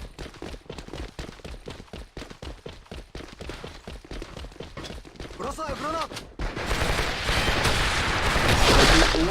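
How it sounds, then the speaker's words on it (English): Rapid Uzi submachine gun bursts in the competitive shooter AVA, clipped automatic shots in quick succession under a commentator's excited talk, then a dense loud wash of gunfire and crowd noise near the end. "Chief is playing with the Uzi"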